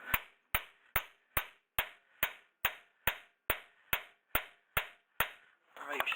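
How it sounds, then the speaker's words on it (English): A small hammer taps a front coil spring on a Ford Fusion into place, about fourteen light, evenly spaced metallic knocks, close and crisp with short ringing decays, ending in some shuffling handling noise. "I'm only using a little hammer and literally the weight of the hammer."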